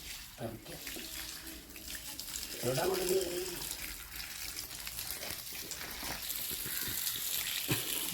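Tap water runs steadily into a sink while freshly harvested yam is washed, with splashes and handling clatter as people talk quietly over the flow.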